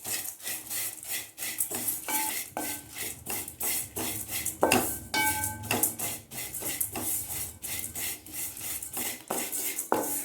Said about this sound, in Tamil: முதல்ல கொஞ்சம் நெய் விட்டு அவல் வறுத்து எடுத்துக்கலாம்